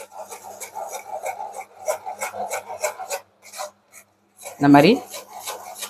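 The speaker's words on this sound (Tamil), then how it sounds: "இதை நல்லா வடிகட்டிட்டு அப்புறமேட்டு அதை எடுத்துக்கலாம்" Blended tomato for homemade ketchup is rubbed through a sieve in quick, rhythmic scraping strokes, close and fairly loud. After a brief pause comes a louder scrape, and a voice speaks briefly.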